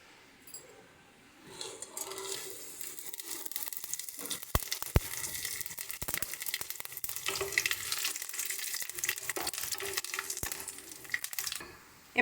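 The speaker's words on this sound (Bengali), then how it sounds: "এবার আমরা ফোড়নে তেজপাতা, শুকনো লঙ্কা, গোলমরিচ আর সামান্য পরিমাণে মৌরিটা দিয়ে দিচ্ছি।" Bay leaf, dried chili, pepper and a little fennel seed drop into hot oil and sizzle steadily for about ten seconds, a broad crackling hiss with a few sharp pops, quieter at the start and end.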